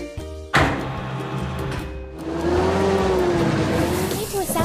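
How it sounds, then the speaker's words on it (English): A pickup truck in a kids' construction video game revs and drives with a synthetic engine tone, starting with a sharp jump in loudness and then holding a steady rising hum, moderately loud with no talking. "Pickup truck."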